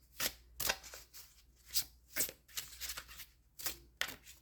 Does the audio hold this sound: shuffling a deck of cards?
yes